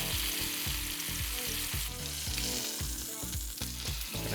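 Lamb rump sears in a hot pan with a steady, loud sizzle and crackle, the meat being turned and pressed at a rhythmic pace with no one talking.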